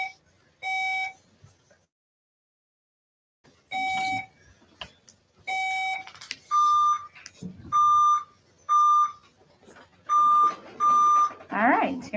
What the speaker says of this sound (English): quick buzzer check to start this round off